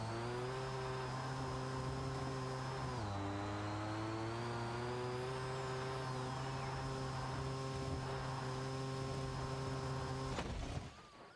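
Powerful car engine in the BeamNG driving game, a steady loud drone with a strong harmonic whine. The pitch drops once early on and the drone cuts off abruptly near the end, with no talk.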